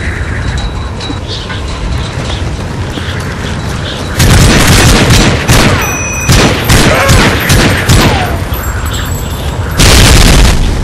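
Predator missile explosions in Modern Warfare 3 search and destroy: very loud, close booming blasts with rolling rumble, several heavy bursts mid-clip and another near the end, over steady battle noise.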